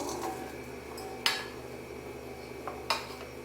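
Chopped cucumber, green chili and coriander leaves go into a bowl while making Tamil-style cucumber raita, giving a few sharp clinks and knocks of utensil against dish among quiet kitchen shuffling.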